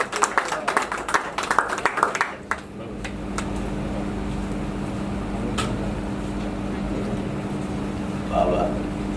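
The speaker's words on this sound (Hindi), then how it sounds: "जोरदार तालियां।" Audience at a film trailer launch event claps in a brief, lively burst near the start, then the clapping dies away into a steady hum of fans or air conditioning, with a voice briefly audible.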